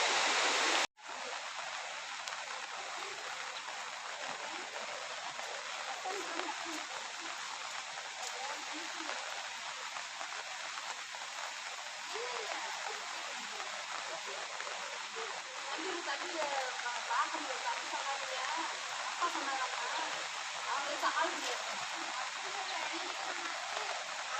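Rain-swollen water rushing at the Anayirangal dam area in Idukki district, a continuous hissing roar like a stream or small waterfall that stays steady and fairly close for the whole stretch after a brief louder burst at the start.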